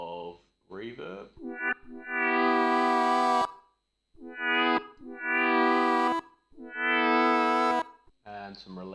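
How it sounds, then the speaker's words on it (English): A Behringer Pro VS Mini synthesizer patch with reverb plays several sustained, harmonically rich notes with gliding pitch and a short reverb tail between phrases, loud and alone. "And lastly, let's just add a bit of reverb."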